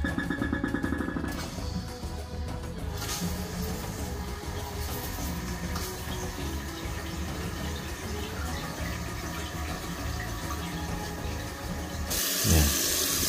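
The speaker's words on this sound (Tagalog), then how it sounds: "Buksan natin yung tubig." Water runs steadily from the supply line into a toilet tank fitted with a new fill valve, a continuous splashing rush that keeps going for the whole stretch and ends in a short louder gurgle.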